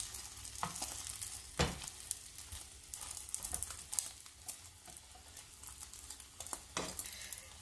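Eggs frying in a poorly suited omelet pan, cooking into a scrambled-egg texture, with a steady close sizzle broken by repeated scrapes and taps of a utensil stirring against the pan.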